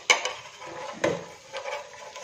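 An egg pancake being flipped in a pan, a few quiet knocks and scrapes of a utensil against the pan with a soft sizzle between them.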